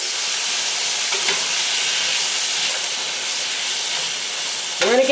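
Honey garlic sausage pieces, celery and onions fry in a hot pan with a loud, steady hissing sizzle throughout, close by, and a short clatter near the end.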